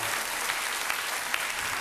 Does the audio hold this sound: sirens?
no